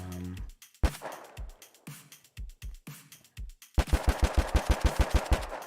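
Submachine gun fire in an Unreal Engine 5 test firing range: scattered single shots and short bursts, then a rapid, evenly spaced volley of sharp, loud reports close by.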